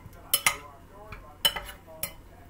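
Seasoned Brussels sprouts tossed in a hot pan, giving a handful of quiet clinks and scrapes of utensil on metal spread over a couple of seconds, close by in a fairly still kitchen.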